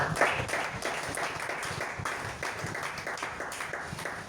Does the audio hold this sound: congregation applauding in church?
yes